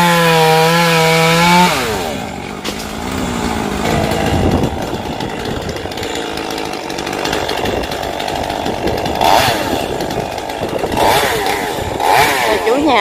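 A chainsaw cuts an old mango tree in windy weather in Tiền Giang, Vietnam: a rising engine whine at first, then a long, loud, uneven buzzing drone as the chain bites into wood, with surges in pitch.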